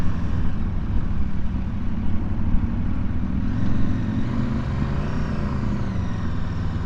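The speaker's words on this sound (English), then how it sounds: "I had to top this bike out to see what it does" An Aprilia RSV4 Factory motorcycle engine drones steadily while being ridden, a loud, close, continuous roar with rising tonal harmonics toward the end, with no speech over it.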